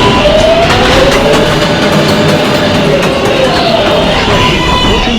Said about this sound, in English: Train approaching the station.